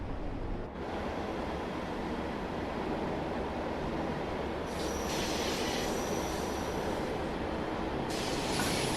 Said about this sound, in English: it sounds pretty accurate, especially the brake squeal